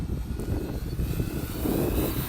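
An E-flite T-28 1.2m RC model airplane flies past, its motor giving a loud, steady, broadband drone that swells slightly toward the end of the pass.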